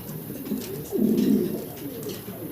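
Pigeons cooing softly on a pigeon farm, a low rolling coo swelling near the middle and fading, with faint steady background hiss and no talking.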